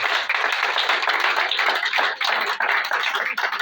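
Audience clapping at a church talk on marriage counseling, a dense, steady round of many hands throughout, fairly loud and without speech.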